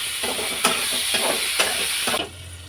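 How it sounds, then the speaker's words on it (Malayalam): Tomato and masala stirred in a hot pan for prawn curry, a steady sizzle with several scraping strokes of a spoon at a regular rhythm, close and fairly loud, with no talking. "ഞങ്ങൾക്ക് നന്നായി ഇളക്കി കൊടുക്കാം."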